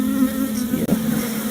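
Honeybees drone in a steady, close buzz as a first hive inspection goes on, the dense hum holding level with one brief dip near the middle.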